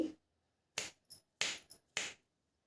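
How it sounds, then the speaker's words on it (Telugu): Three crisp finger snaps ring out evenly spaced in an otherwise quiet room, each followed by a softer secondary click, close and dry. "నేను మూడు చిటికలు వేస్తాను"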